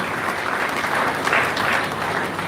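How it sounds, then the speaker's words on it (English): An audience applauds at a memorial lecture, a dense, steady wash of clapping from many hands that carries loud and unbroken for the whole stretch, with no voices over it. "We shall be clapping as we applaud."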